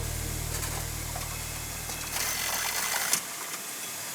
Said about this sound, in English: a machine that puts the sticky tape on the box, which is like a big version of the one you have on your desk